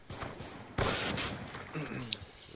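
Gunfire in a shooting video game: a sudden loud burst of rapid shots that keeps rattling for about a second, then quieter scattered reports, with faint voices underneath.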